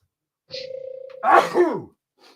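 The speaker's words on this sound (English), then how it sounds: "I got to sneeze." A drawn-out inhaling hum builds up, then bursts into one loud, explosive sneeze with a trailing vocal groan, close by and otherwise quiet.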